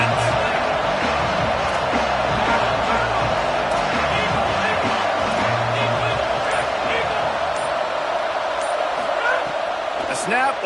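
A stadium crowd at a football game keeps up a loud, continuous roar and babble, with scattered thumps and shouts rising out of the din.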